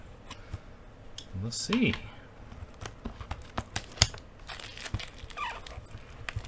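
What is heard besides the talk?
opening a box of Detective Conan trading cards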